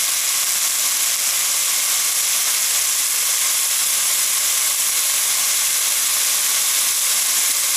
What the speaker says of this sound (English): Turn the heat up just a bit more, and we're going to saute these.